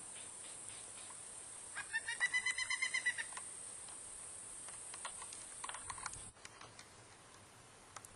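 Baby pileated woodpeckers giving a quick run of rapid, evenly spaced calls near the start, followed by a few fainter scattered notes, set against a steady high insect-like hiss outdoors.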